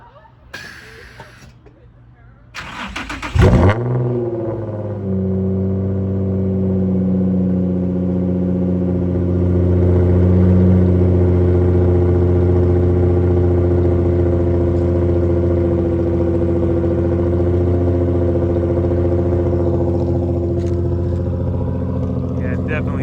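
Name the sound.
Nissan 350z engine cold start with Motordyne art pipes exhaust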